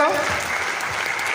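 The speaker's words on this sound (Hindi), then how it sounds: "एक बार सर के लिए जोरदार तालियां होनी चाहिए।" An audience at an RCM World gathering in Bhilwara claps steadily, a dense even wash of applause that tapers slightly over a short stretch, with a voice heard briefly at the start.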